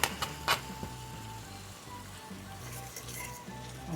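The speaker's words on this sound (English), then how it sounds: "We're just going to stir those down in there into the hot pan and let those cook in." Chopped onion sizzling in a hot pan for a chicken bowl, a faint steady frying hiss with a few soft clinks of stirring near the start, no talk over it.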